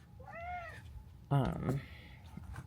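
Two hungry house cats meow close by, a short plaintive call followed by a louder, longer one, over faint room noise.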